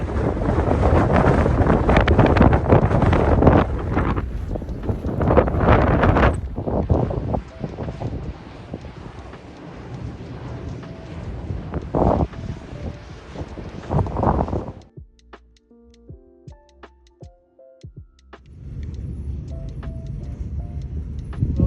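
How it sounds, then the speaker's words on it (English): Heavy wind of 60 to 70 mph buffets the microphone in loud roaring gusts on the Pacific Crest Trail near Tehachapi, then drops away briefly before returning more softly. "It's so windy right now, even my gimbal's struggling."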